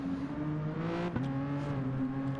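A race car engine in a sim racing game drones steadily at high revs while descending a corkscrew section, with a sharp pop near the middle as the pitch shifts.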